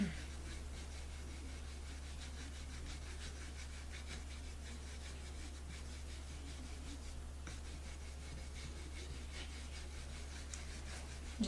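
A dry paintbrush rubbed with gentle pressure over a painted surface in tole decorative painting gives a faint, steady scratchy brushing that continues throughout, quiet and close, over a low background hum.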